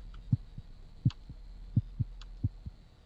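A pounding heartbeat from the video game The Cat Lady throbs in steady low double thumps, about every three-quarters of a second, over a faint hum.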